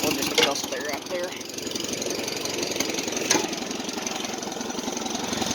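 A Farmall C tractor engine chugs steadily while pulling an Oliver 2-12 Plowmaster 100 plow, a loud, close, rhythmic knocking beat with someone talking over it.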